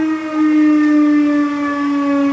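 A siren sounds outdoors in Dharmasthala, Karnataka, holding a loud, steady, sustained tone with strong harmonics. No one speaks over it.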